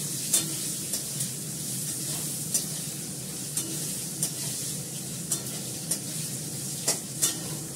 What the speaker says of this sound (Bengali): দেখো আলুটা আমার ভাজা হয়ে গেছে, বেশি করে লাগে না ভাজতে।